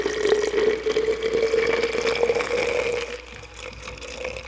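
Liquid poured steadily into a cup at a mukbang meal, a continuous close pouring and filling sound with a steady rising tone that eases off toward the end, with no talking.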